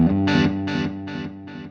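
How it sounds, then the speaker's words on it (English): Distorted electric guitar notes through a Fender Mustang LT25 amp's standard delay effect, each sound repeating in four evenly spaced echoes that gradually fade. "Now here we've got a standard delay, a reverse, and an echo."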